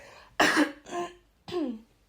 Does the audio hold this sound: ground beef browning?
no